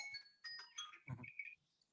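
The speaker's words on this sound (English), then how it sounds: "there's the alarm" Timer alarm going off at an indoor Utah political event, a faint series of bright electronic chirping tones in short bursts, with a brief muffled voice or noise in the middle before the beeping trails off.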